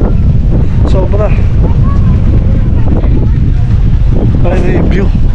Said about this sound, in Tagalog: Ay, lakas ng hangin dito. Sobra.